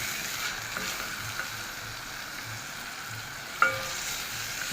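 Garlic and onion sautéing together in hot fat for a bean stew, giving a faint, steady sizzle and crackle with a single light clink of a utensil near the end.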